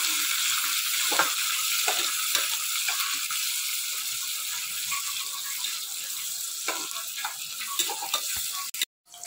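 Onions sizzle steadily in a pan for chicken biryani, a close, even hiss with occasional spatula scrapes and stirring ticks, ending in a brief cutoff.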